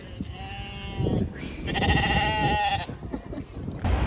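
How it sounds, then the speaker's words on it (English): Sheep and goats on a farm bleating, with a few wavering calls overlapping and one long loud bleat in the middle, heard at moderate distance over outdoor background noise. "There's a bunch of farm animals. Sheep. There was goats over there."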